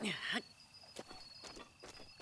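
A bird calls in The Legend of Zelda: Breath of the Wild, a short tonal sweep at the start followed by several soft, spaced clicks and taps, faint and sparse with light background ambience.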